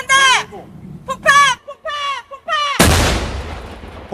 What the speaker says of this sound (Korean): 전방에 폭파한다! 폭파!